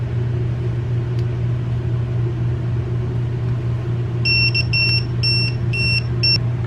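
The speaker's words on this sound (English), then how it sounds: "So we've got the alarm set off" An EEZ tire pressure monitor alarm sounds a rapid series of sharp, high electronic beeps in short groups over a steady low hum.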